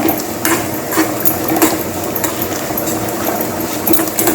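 A cup of grated coconut is dry-roasted in a pan for Kerala-style erissery, with repeated scraping and stirring strokes over a soft sizzle, close and moderately loud, without speech.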